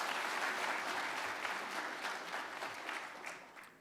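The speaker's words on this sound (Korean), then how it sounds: "여러분들 큰 박수로 다시 한번 맞이해 주시기 바랍니다" An audience at a forum gives sustained applause of many hands clapping to welcome the British ambassador to the lectern, softly heard and gradually thinning out toward the end.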